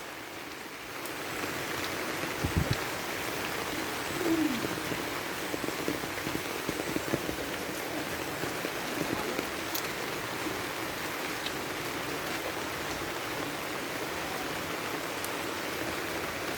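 Steady rain falls around a vegetable garden, a constant even hiss of drops on leaves and an umbrella with occasional louder patters, heard alone without voices.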